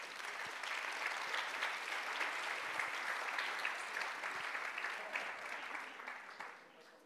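An audience at a round table on eco-design applauds the panelists as they come on stage, a full, steady wash of clapping from many hands that fades away at the end.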